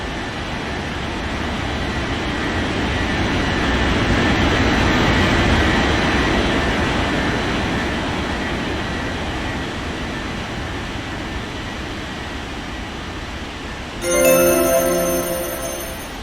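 A Boeing airliner roars down the runway on its takeoff roll in an air traffic control game, a loud, steady engine rumble that swells and then eases, with a short radio chirp near the end.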